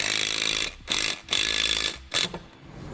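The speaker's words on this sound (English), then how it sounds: "tighten the bolt down" A bolt being tightened with a 9/16 socket, likely driven by a power tool, while mounting Firestone Ride-Rite Red Label Extreme Duty air helper springs; loud, close whirring runs in several bursts with short pauses, with no talking.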